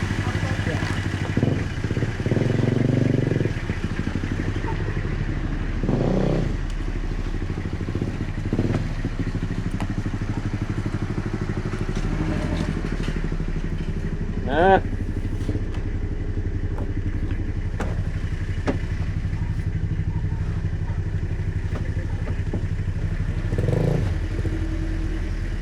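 A motorcycle ride in Laos, with a steady low engine drone and road rumble running throughout, occasional clatter over it and people talking at times.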